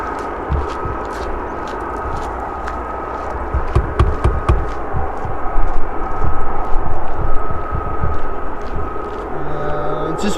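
A Boeing 737 Max climbs out of Manchester Airport, its engine roar a broad low rumble that swells toward the middle and lingers, with people talking over it.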